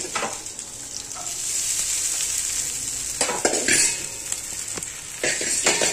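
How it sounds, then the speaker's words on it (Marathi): Khichdi rice tossed into a hot pan to roast, giving a steady sizzle and frying hiss with a few sharp scrapes and clinks of a stirring spoon against the pan near the end. "आता मी खिचडीचे तांदूळ टाकते याच्यामध्ये."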